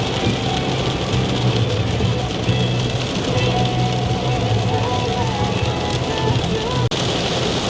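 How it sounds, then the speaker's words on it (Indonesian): Heavy rain pours onto a car on a highway drive, a dense, loud, continuous hiss and patter over the engine's drone, with a brief knock near the end. "deras banget nih hujan"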